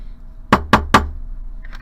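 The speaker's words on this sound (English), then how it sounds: "I'm going to do a hammer finish on all the edges." A metal hammer strikes the edges of a copper necklace three times in an even rhythm, each blow a sharp, close tap, followed by a faint clink.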